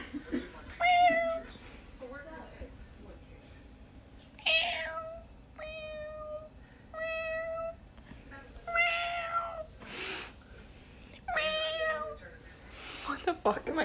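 A cat meows repeatedly, several drawn-out harmonic calls spaced a second or two apart, fairly close and clear, with a person talking and imitating the meows in between.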